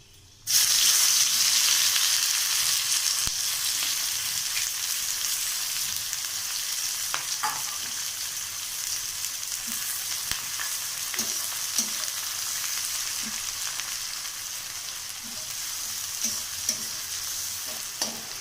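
Chopped onions frying in a pan with cardamom, cloves and cinnamon burst into a loud sizzle that settles into a steady crackle, with scraping stirs recurring throughout.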